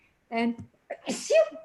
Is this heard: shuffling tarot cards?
no